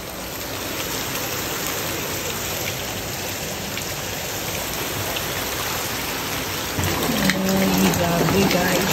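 Heavy rain from Typhoon Kristine pours down in a dense, continuous hiss with no pause, loud and close, and a brief voice and a tonal sound rise near the end.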